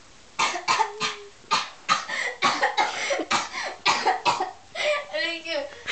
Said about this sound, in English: It made me cough.